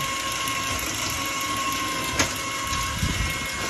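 An electric automatic water pump motor running at 24 volts drawing about 2 amperes as pressure builds hums and whirs steadily, with a constant tone and a couple of brief clicks.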